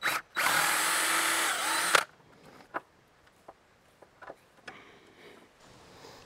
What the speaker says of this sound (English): this is one of those self-centering drill bits